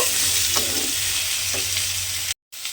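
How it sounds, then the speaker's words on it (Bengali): Sliced green tomatoes cooking with potato in a hot pan, a dense continuous sizzle with a couple of soft stirring knocks and a brief cut to silence near the end. "সেই টমেটোটা কিন্তু আমি এর মধ্যে দিয়ে দিলাম দিয়ে আবারও একটু এইভাবে নেড়ে ছেড়ে রান্না হতে দেব"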